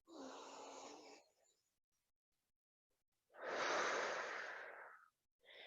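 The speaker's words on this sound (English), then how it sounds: "Exhaling." Two slow, audible exhales through the nose and mouth during a full-body stretch, each a soft breathy rush lasting a second or two, separated by quiet.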